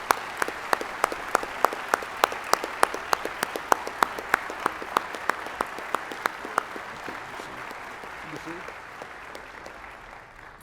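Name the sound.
audience applause congratulating graduates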